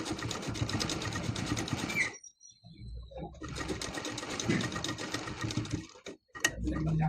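A sewing machine stitching a blouse neck design gives a fast, even mechanical rattle up close, stopping for a short pause midway and again near the end before running on.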